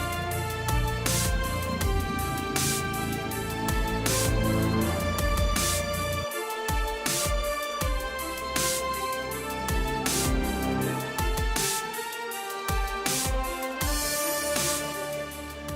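Orchestral video game music cue for a mech bot attack, strong brass and low and high strings playing a dense, loud, continuous passage with punchy rhythmic accents throughout.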